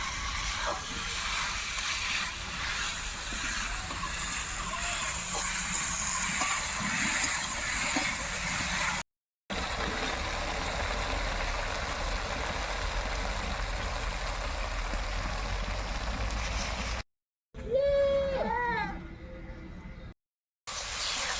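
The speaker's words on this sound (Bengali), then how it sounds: "এখন আমি দিয়ে দেবো ভেজে রাখা আলু আলু দিয়ে সুন্দর কষিয়ে নেবো" Fried potatoes sautéing in hot oil with ground spice paste for a thin snakehead fish curry, giving a steady, close broadband sizzle with brief gaps and a short burst of talk near the end.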